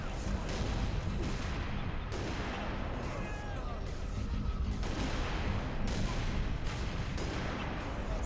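Gunfire in Halo: Reach crackles in repeated loud bursts, heavy booming shots and rapid volleys following one another closely over a rumbling battlefield din.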